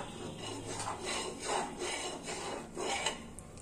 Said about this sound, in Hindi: इसे हमें चलाते रहना है और इसे हमें खुला ही पकाना है